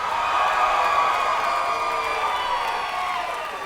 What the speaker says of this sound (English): I'm gonna ask this entire place to stand up and cheer